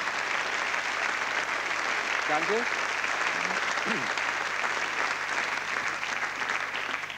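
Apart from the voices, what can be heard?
studio audience applause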